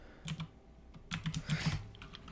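Code being typed on a computer keyboard, close and fairly quiet, with a short burst of keystrokes, a brief pause, then a faster cluster of clicks.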